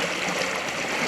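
Water rushes steadily through an underground catacomb tunnel in Manchester, a dense, close, continuous hiss and gurgle with no pauses.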